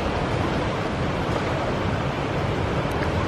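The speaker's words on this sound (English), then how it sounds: "And this is a running water." Running river water near a footbridge makes a steady, full rush that sounds close and continuous, with no voices over it.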